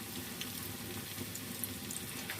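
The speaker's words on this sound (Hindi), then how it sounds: "समोसों को फ्राई कर लेते हैं।" Samosas fry in fully heated oil with a steady, dense sizzle. It fills the short stretch evenly, close and continuous, with no voices.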